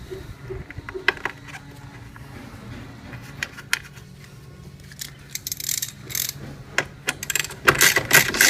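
Ratchet with a 6mm socket working the headlamp bolts on a BMW 528i, heard as scattered bursts of close clicking that get busier toward the end, with no talk.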